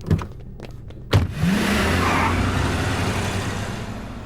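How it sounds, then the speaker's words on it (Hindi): A car starts off and drives away, a few sharp knocks followed by a steady engine rumble that holds close and fairly loud. "गाड़ी निकालो।"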